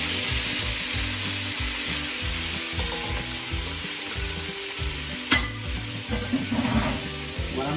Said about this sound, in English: You hear that sizzle?